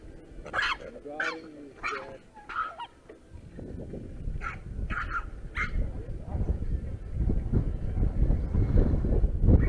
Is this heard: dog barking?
yes